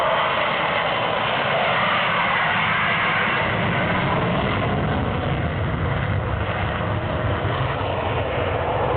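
A historic British aeroplane's engine drones loud and steady throughout, a continuous close roar with no break.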